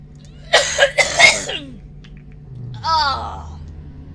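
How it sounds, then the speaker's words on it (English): A coughing fit from a character in the video game Mass Effect 2: several harsh, close coughs in quick succession, then a brief pause and a rasping, wheezy breath or groan at the end. "That coughing fit always makes me feel a little ill."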